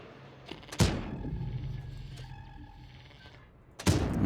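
A World of Tanks tank gun fires twice, each a sharp close boom with a short rumbling tail, separated by about three seconds of low hum.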